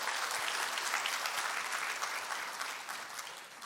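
Steady applause from a large crowd at a company gathering, loud and sustained with dense clapping throughout, easing slightly toward the end.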